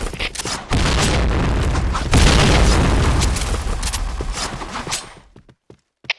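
A grenade blast in the shooter game Point Blank: a loud, broadband boom that holds heavy and sustained for several seconds, then rumbles away into silence, with a brief sharp crack near the end.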